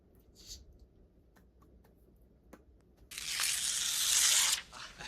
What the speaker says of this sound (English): Now, I want you to rip out that page.